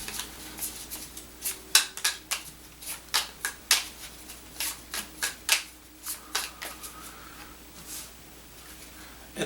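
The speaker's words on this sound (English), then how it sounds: "you're going to go ahead and shuffle these up" Playing cards are shuffled in a series of crisp riffles and snaps, close and clear, with short pauses between bursts.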